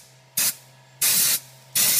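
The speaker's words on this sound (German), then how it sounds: "Eine Druckluftdose, die schön voll ist." A full can of compressed air sprays onto a BuildTak print surface on a Flashforge Dreamer 3D printer in three sharp hissing bursts, close and loud, the second blast the longest, with quiet pauses between them.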